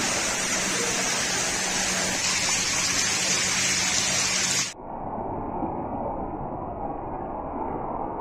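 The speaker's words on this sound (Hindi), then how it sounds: "छत से जो ना पानी नीचे आ रहा है।" Heavy rainwater pours off a roof during a downpour in Dubai or Sharjah, a dense, loud, unbroken gushing roar that continues with no talk over it.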